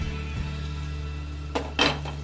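A spoon scraping and clanking through masala arbi, a spiced taro curry, in a pan: two short close scrapes near the end over a steady low hum, no talking.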